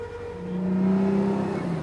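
Fire apparatus engine running steadily while the clutch is slowly engaged with the vehicle held stationary for pump operation; a continuous close motor drone that swells slightly in loudness, with no talk.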